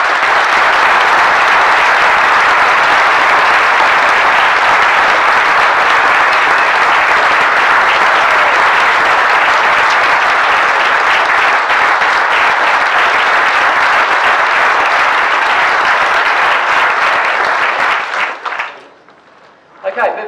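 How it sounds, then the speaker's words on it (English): Sustained, loud applause from an audience at a bird photography awards presentation, greeting a category winner, steady for about eighteen seconds before tapering off abruptly near the end. "and we will applaud him."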